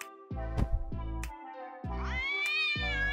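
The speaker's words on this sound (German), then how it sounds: "lebt ein Kater namens Garfield" A cartoon cat named Garfield lets out several short meows followed by a longer, rising drawn-out cry, loud and close against a sustained musical background.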